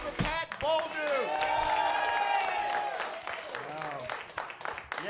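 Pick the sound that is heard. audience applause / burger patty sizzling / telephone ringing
audience applause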